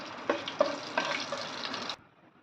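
Bay leaf, dried red chilli and whole cumin hitting hot ghee, a loud close burst of sizzling and crackling with a few pops that runs for about two seconds and then cuts off abruptly.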